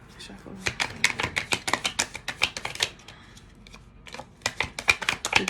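Tarot cards are shuffled close up in quick, crisp riffling bursts, pausing briefly before resuming in a steady rhythm.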